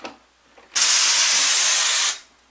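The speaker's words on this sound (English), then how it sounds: "I like to turn it on full blast and spray a little bit of texture on the plastic" A drywall texture hopper's spray hose opens at full blast onto plastic sheeting, a loud, steady broadband hiss lasting about a second and a half before cutting off, with faint handling noise before it.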